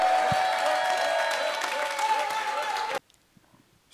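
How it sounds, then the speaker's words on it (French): A festival audience applauds loudly with some cheering, a sustained dense wash of clapping that cuts off abruptly near the end, leaving near silence. "Je pense que vous pouvez encore l'applaudir très fort."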